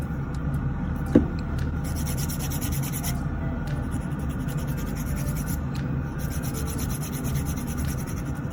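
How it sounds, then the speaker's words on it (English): A nail file rubs back and forth across fingernails during a manicure, a steady close scratchy rasp in repeated strokes with no talk. "the filing back and forth is not damaging to the nail as long as the grit is not too harsh"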